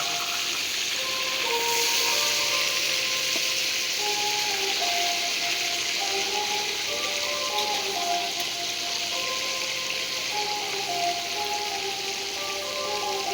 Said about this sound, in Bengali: সব মাছগুলো যে ভেজে নেব আমি এখন।